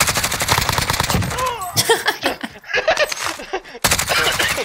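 Gunfire in the Warzone video game, with rapid automatic bursts and sharp shots repeating close and loud, briefly broken by excited voices talking over the action.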